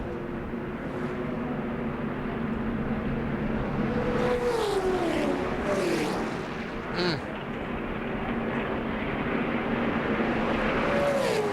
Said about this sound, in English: Mike Wallace in the 4 car gets turned into the grass, fights it, and watch how he ends up hitting the wall